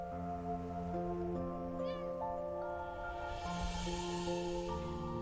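A cat meows in the video game Imposter Factory, its brief high cry rising above steady, sustained game music that runs underneath throughout.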